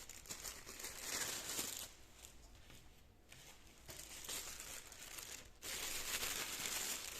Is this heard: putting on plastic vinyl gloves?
yes